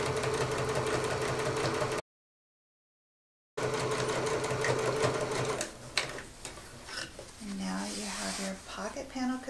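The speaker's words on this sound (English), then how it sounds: "you're going to stitch all the way down" A sewing machine stitches the top folded edge of a commuter tote bag, a steady close whirring run that cuts out briefly and resumes, then gives way to uneven mechanical sounds and talk near the end.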